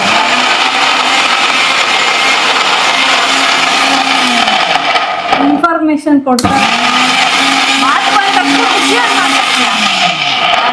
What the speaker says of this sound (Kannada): ನಾನು ಮಾತಾಡ್ಬೇಕಾದ್ರೆ ಮಿಕ್ಸಿ ಆನ್ ಮಾಡ್ಬಾರ್ದು.